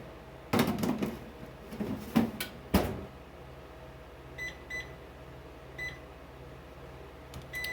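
A dish of shortbread cookies slid back into a home oven set to 350 degrees, with a few sharp clatters and a firm door thump early on, then quieter kitchen sounds and faint beeps.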